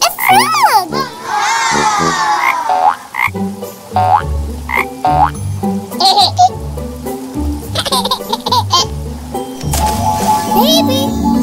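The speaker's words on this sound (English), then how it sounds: "Look! A frog!" Frog croaking in rainy-season outdoor play rises and falls in repeated rhythmic calls, loud and close, mixed with squealing sounds and a child's laughter and chatter.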